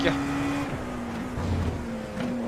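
Engine drone of an LMP2 prototype in rFactor 2 at Daytona, closing in on a slower class car in traffic; a steady mid-loud hum with a pitch shift as the gap closes, while a voice talks over it.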